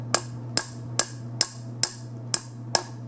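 A piece of wood taps pieces down in seven sharp, evenly spaced knocks, each a bright crack with a short ring, set over a steady low hum, close and clear with no talking.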